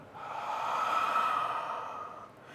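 A single slow open-mouthed exhale, like breathing on glasses to clean them, a soft breathy hush that swells and fades over about two seconds, close and alone.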